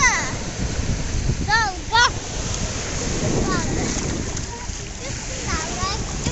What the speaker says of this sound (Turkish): Dalga bana sıçtı.